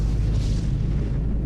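Massive volcanic eruption blast, a deep sustained rumbling roar with heavy low-end weight that stays loud and dense throughout, no voices.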